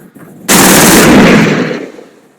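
A sudden, loud burst of rapid Spitfire machine-gun fire in a flight simulator game that starts abruptly, holds steady for about a second, then trails off. No voices.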